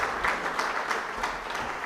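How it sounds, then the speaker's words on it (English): Audience clapping at a nutrition champion awards event, a steady even patter of hands filling the room at moderate level with no voices over it. "Can we give Florence a better hand clap?"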